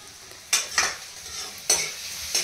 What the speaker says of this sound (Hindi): तो गाइस मैंने प्याज तेल गरम हो चुका है, तो मैंने प्याज फ्राई करने के लिए प्याज डाल दी है।